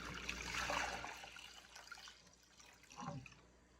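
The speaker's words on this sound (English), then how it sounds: "And I'm going to pour the liquid back in." Wild lettuce liquid being poured back into a crock pot, a soft watery splash and trickle that swells early, fades, then returns briefly near the end, close by with no talking.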